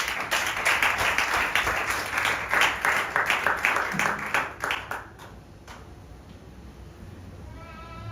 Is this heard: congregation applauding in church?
yes